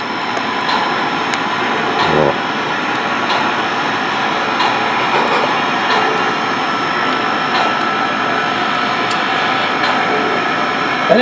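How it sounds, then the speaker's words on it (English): A PRR three-rail model train engine running while stationary, giving a steady whirring, hissing drone with faint mechanical clicks and one brief dip, loud and continuous indoors. "That engine sounds good just sitting there too."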